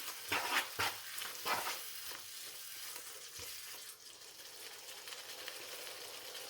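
A spoon stirs cumin-coriander powder into a tomato curry sizzling in a pan, with scraping strokes near the start and then steady, moderately close frying hiss, no talking.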